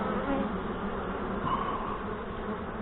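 Honey bees from a calm Saskatraz colony buzz steadily at an open hive in northwest Wisconsin, a continuous close, dense drone with no talking over it.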